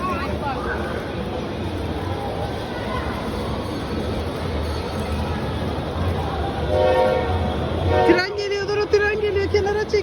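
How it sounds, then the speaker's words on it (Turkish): A train rumbles steadily past a shopping mall, its noise building, then a horn blares near the end; voices can be heard under the din. "Tren geliyor elini ver."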